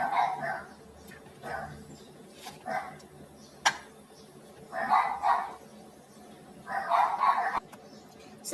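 Neighborhood dogs barking in short bursts from a distance, scattered over several seconds with a few sharp clicks and a soft background murmur.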